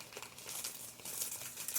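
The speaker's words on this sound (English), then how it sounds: "I gotta unwrap the darn thing here." Paper crinkles and rustles continuously at close range as a wrapped shell-pink sugar holder is unwrapped, soft and steady without talk.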